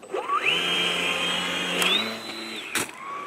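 Small electric motor of a model flying boat spooling up at hand launch, rising in pitch to a steady close high whine, then stepping higher briefly before winding down near the end.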